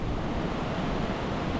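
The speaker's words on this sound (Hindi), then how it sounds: "ये चल रही है भाई नदी, आज तो साफ पानी आ रहा है पूरा" A mountain river in the Pangi Valley, running with clear water, rushes steadily close by in a dense, unbroken wash of noise with no voices.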